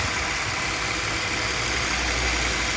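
A BMW 325ci E46 engine, after an oil pan gasket replacement, idles steadily and evenly, a smooth continuous hum with a faint high-pitched whine on top.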